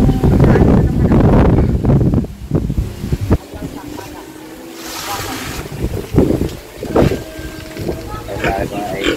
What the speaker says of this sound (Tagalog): malakas na naman po ang hangin